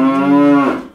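A voice imitating a cow, one drawn-out, loud moo up close.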